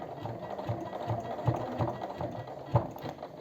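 A sewing machine with a thicker needle stitches a leather wallet in slow, careful bursts, each stitch a soft rhythmic thud close by, running unevenly with small pauses and no speech.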